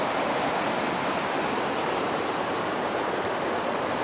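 Water pours over the Little Falls dam on White Clay Creek, a continuous loud rushing roar with no pauses, heard close and alone.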